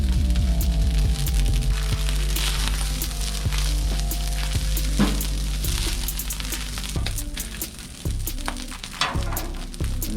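Cooked rice frying in a hot pan for shrimp fried rice gives a steady, loud sizzle with crackles and stirring scrapes throughout, heard alone without talk.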